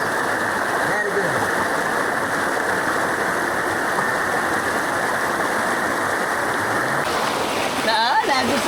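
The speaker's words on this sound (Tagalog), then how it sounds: "Yung mga parang basin na may mga agos papunta doon sa main falls." Water flows through a series of rocky basins into the main fall of a hidden waterfall in Quezon Province, giving a steady, loud rushing roar that fills the whole scene, with brief voices near the end.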